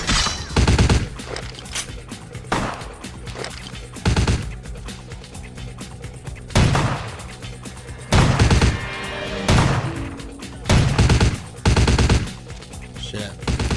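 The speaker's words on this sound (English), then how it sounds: "Well, damn, they're shooting me from down there" Enemies firing guns in Vampire: The Masquerade - Bloodlines, a series of loud, close automatic volleys coming in separate bursts every second or two, with someone talking faintly between them.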